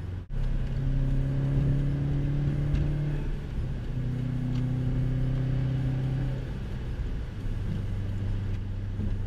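A 2015 Subaru WRX STI's 2.5-liter boxer engine hums steadily from inside the cabin, its low drone shifting pitch as the revs rise and fall through gear changes.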